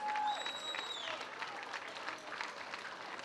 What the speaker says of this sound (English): please, a massive round of applause for both these fighters